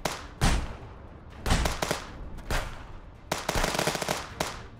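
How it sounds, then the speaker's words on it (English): Rifle gunfire in the video game Contraband Police, several loud sharp cracks in irregular bursts, some shots in quick succession, close and punchy against a quiet background. "Someone sounds like they have a sniper or a rifle."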